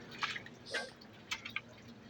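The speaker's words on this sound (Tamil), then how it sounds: "ஸோ மழை பெஞ்சிட்டு இருக்குது எங்கள் வீட்டு பக்கத்தில்" Rain drips near a house: a few soft, scattered drops land close by over a faint, steady wet hiss.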